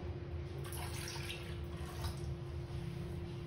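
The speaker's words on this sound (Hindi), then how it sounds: "इस पानी को हम निकाल देंगे" Water being drained from soaked chickpeas through a cloth or strainer into a bowl, a steady trickling splash that runs evenly and fairly close, with no talking.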